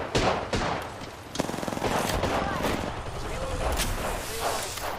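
Loud, close machine gun fire in a war video game, rapid sustained bursts mixed with distant shots and impacts, while someone talks excitedly over the combat.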